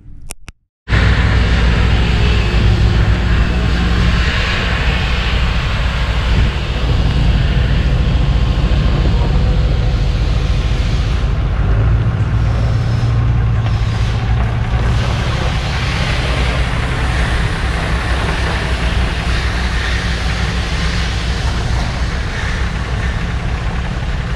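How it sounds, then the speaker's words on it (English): A tuned 2018 RAM 2500 with a Cummins diesel engine is pulled out, giving a loud, steady, rumbling engine drone with rushing wind-like noise that holds for about twenty seconds, with no voices. "Let's get the truck pulled out."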